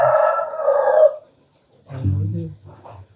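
A rooster crows once, loud and close, a sustained call of about a second; after a short pause a voice follows.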